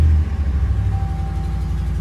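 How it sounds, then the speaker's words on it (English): A 2016 RAM 1500 pickup truck's engine catches and settles into a steady, close idle rumble that carries on throughout, with a faint thin whine joining partway through. "Let's go ahead and turn on the truck."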